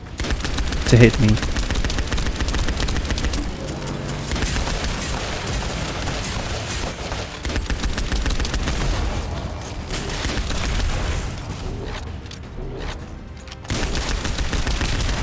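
Rapid light machine gun hip fire rattles loudly in a video game boss fight against the Dead Bride, sustained bursts with booming impacts, while a player's voice talks briefly over the shooting.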